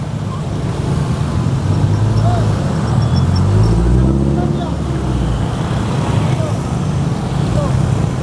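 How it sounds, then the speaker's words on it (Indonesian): Busy roadside traffic by a concrete and stone retaining wall along a canal, vehicles rumbling past continuously with one heavier engine swelling and fading mid-way, while people chat over the steady noise. "ini sudah rame juga nih kendaraannya nih yang lalu lalang ya"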